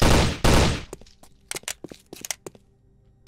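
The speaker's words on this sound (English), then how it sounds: "Bro, I'm shooting all around him." Gunfire in a Left 4 Dead–style zombie shooter game: two loud, close blasts open, followed by a scatter of sharper, quieter cracks and thuds at irregular intervals.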